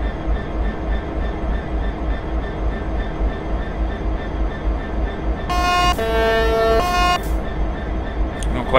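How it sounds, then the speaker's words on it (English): A Freightliner Class 66 diesel locomotive horn in Train Simulator 2015 sounds one loud, steady multi-tone blast lasting under two seconds. A low engine rumble drones throughout. "I don't quite know why the horn sounds like that on my machine"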